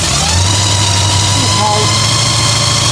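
A 1957 Chevy 150 two-door sedan with Corvette running gear idles low and steadily, a deep, continuous rumble under someone talking.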